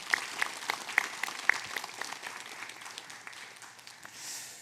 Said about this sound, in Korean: 영광의 박수 한번 올려드릴까요?